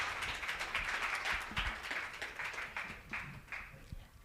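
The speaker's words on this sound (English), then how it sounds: "Come on, a round of applause" A seminar audience applauds, with dense, fairly loud clapping that holds steady and then thins slightly toward the end.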